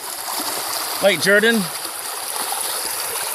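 A waterfall at Lake Jordan rushes in a constant, broad wash of water noise, and someone speaks briefly over it.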